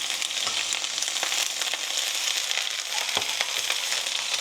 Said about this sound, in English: We're going to add the garlic and ginger, which I've already grated